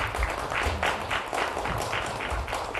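Audience applause at a university president's inauguration service, clapping after a call to congratulate during a flower presentation; moderate, steady clapping from a seated crowd with some faint voices mixed in.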